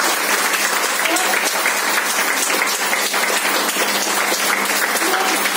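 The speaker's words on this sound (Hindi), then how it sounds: "थैंक्स कहने के लिए मैं एक जोरदार ताली के लिए।" Loud, steady applause from an audience at a talk on empowerment, sustained clapping filling the whole stretch without a break, with some voices mixed into the crowd noise.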